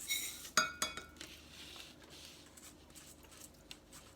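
Metal spoon scooping rice for stuffing artichokes in a home kitchen, a few sharp clinks against a bowl early on, then quieter scraping and faint taps, close and soft with no talk.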